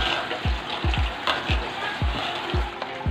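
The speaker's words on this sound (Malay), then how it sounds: "Sekarang kita tumis sampai paste-nya betul-betul masak." Spice paste sautéing in a pan for a seafood dish, a steady sizzle with a quick series of thumping stirs and scrapes close by.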